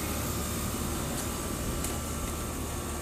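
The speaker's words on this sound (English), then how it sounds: "That's what the air conditioning sounds like it runs." A house air conditioning unit runs with a steady, low, even hum, faint and constant, with no voices.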